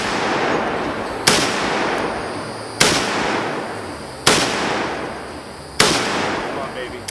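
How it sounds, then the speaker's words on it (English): An AK-50 rifle test-fired four times, with sharp, loud cracks spaced about one and a half seconds apart, each trailing a long, rumbling echo that fades before the next shot. The sound is close, with no talking between shots. "AK-50 test fire number 73"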